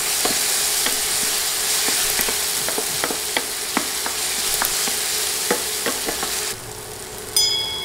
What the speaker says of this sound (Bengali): টমেটো নেড়ে 30 সেকেন্ডের মতো ভেজে নিব।